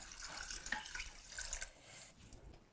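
A liquid seasoning is poured into a pot of drained rice in a home kitchen, giving a soft, close trickle and splash. The sound swells and eases over a couple of seconds and stays fairly quiet.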